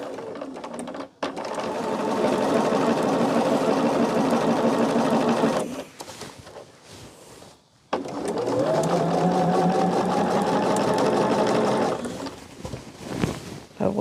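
A sewing machine stitches a scrappy quilt flimsy back together in two long, loud, steady runs with a short pause between them.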